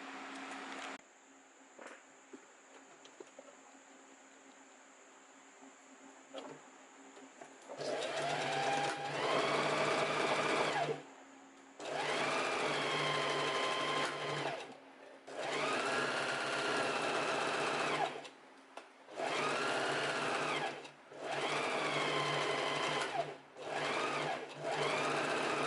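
A sewing machine stitches a summer top in several long runs broken by short pauses. Its steady, close motor whir speeds up and slows down, with quiet handling of fabric in the gaps and a faint background hum before stitching starts.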